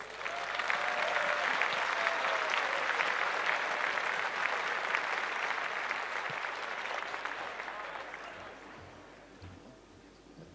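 Audience at the Knight of Illumination Awards ceremony applauds steadily and fairly loudly for ten seconds, the clapping thinning slightly toward the end as a trustee walks on stage.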